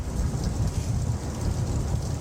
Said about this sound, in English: Let's get some thunder and rain.